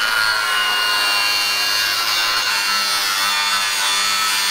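A custom front bumper on an old Ford tow truck is being notched with a cutting tool, making a harsh, continuous, loud grinding-sawing noise with no break and no talking.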